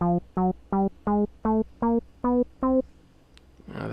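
A Korg Volca NuBass synthesizer plays a simple step sequence of eight evenly spaced bass notes with a gently shifting pitch, followed by a brief pause and a soft noisy tail.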